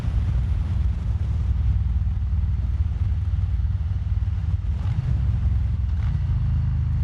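A Harley-Davidson Street Bob running a Power Vision IV and Fuel Moto tune rumbles steadily while being ridden and downshifted, a deep continuous engine drone with wind buffeting over it.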